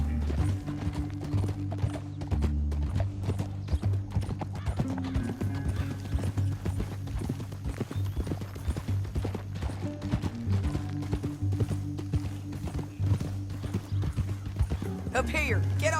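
Horses ridden through a canyon in Red Dead Redemption II, with rhythmic clip-clop hoofbeats and a whinny over a loud low musical score, a brief voice and jingling tack near the end.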